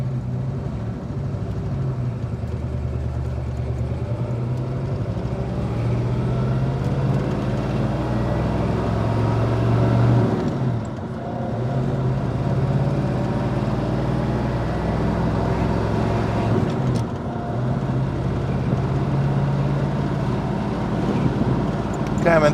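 Engine of a 1966 Chevelle SS pulling away in first gear at Celebrity Cars Las Vegas, a loud continuous low drone mixed with wind noise that dips briefly twice, around the tenth and seventeenth seconds, as gears change.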